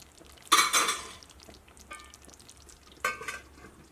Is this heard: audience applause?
no